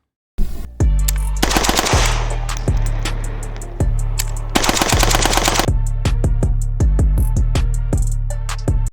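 AK rifle with a piston moving opposite the recoil, firing rapidly: a loud, close, sustained run of sharp automatic shots in fast rhythm after a brief silence, with no talking.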